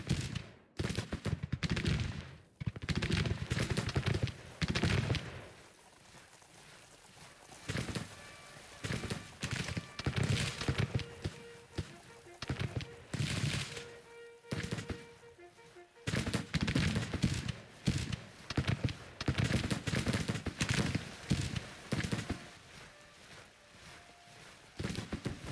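Cannon and rifle fire in the Civil War strategy video game Grand Tactician, repeated bursts of shots and booms rolling in irregular volleys with short quiet gaps between them, fairly loud throughout.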